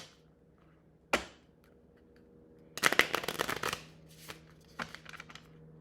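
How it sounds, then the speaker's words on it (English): Tarot cards shuffled by hand in a quiet room: a sharp snap, then a dense riffling burst of papery flutters lasting about a second, followed by a few softer card slaps, close and fairly faint. "I'm just going to pull three tarot cards"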